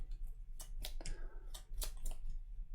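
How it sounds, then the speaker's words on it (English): Deck of cards shuffled by hand for the Middara board game, several quick riffling bursts and soft card slaps in a quiet room, each flurry lasting a fraction of a second. "Let's pick up all our cards, give it a good shuffle."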